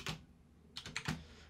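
A few quick, quiet keystrokes tap on a computer keyboard, one isolated press followed by a short cluster of clicks.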